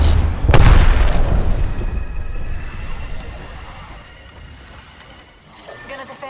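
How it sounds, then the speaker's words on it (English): A grenade explodes in the Apex Legends video game, a loud close boom with a long rumbling tail that fades over several seconds, then a few light clatters toward the end. "Grenade!"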